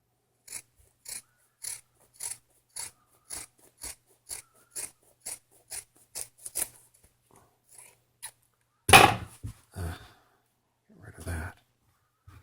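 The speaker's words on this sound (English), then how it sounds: "turn your scissors and just follow the stitch line up about 1/8 of an inch or so away from the" Scissors cutting fabric along a stitch line for a purse, about a dozen crisp, evenly spaced snips, then a few irregular cuts, a loud rustle of fabric handling and scattered rubbing.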